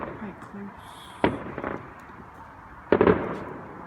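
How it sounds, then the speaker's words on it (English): Fireworks bursting on Bonfire Night, two sharp explosions each followed by a crackling tail, heard at a distance over a low outdoor murmur with people talking quietly nearby. "More fireworks, please."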